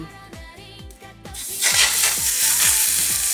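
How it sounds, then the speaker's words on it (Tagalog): Meat drops onto a hot grill pan and bursts into a loud, broad sizzle that holds steady, after a few seconds of quieter kitchen clatter. "ihuhulog na natin ang ating karne"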